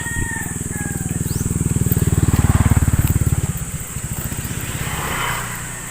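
Motorcycles riding along a trail, a close engine whose rhythmic thumping rises steadily in pitch and loudness and then eases off, with faint background sounds around it.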